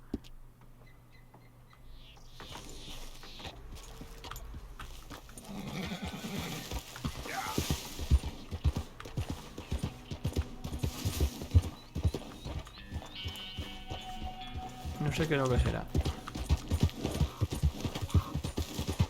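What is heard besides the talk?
horse hooves galloping in the video game Red Dead Redemption 2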